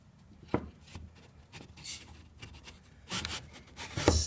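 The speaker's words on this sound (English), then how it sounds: "Fit this down into the groove. A little snug again." A snug wooden panel, the bottom of a box, is pushed down into a dado groove, giving close scraping and rubbing of wood on wood with a few sharp knocks, louder near the end.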